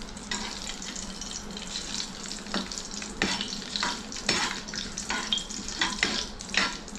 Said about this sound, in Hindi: बस इसको बस हल्का सा 30 सेकंड्स के लिए सौटे करेंगे